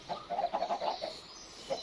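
Short clucks from chickens in the Java edition of the video game Minecraft, at a chicken farm, coming as a quick run of soft, close calls followed by a brief pause and one last cluck.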